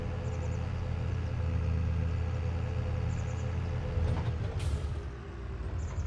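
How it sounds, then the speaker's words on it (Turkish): Tractor engine from Farming Simulator 22 rumbles steadily and loudly throughout, a continuous low drone with a brief hiss near the end. "Evet traktörün sesini de biraz alayım."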